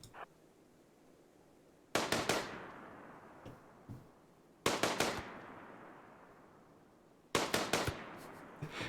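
Three sharp, loud bursts of video game gunshots, each a quick cluster of shots separated by a couple of seconds of near quiet, with a faint trailing decay after each volley.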